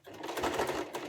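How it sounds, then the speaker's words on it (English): Short, steady burst of a sewing machine stitching pleats on a fabric face mask, its rapid needle chatter close and fairly quiet with no talking. "So that's the first pleat sewn, and I'm stitching very close to the edge now"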